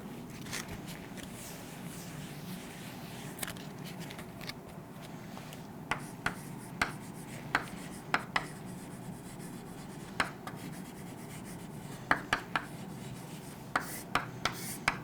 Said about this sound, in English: So, if I write this over here,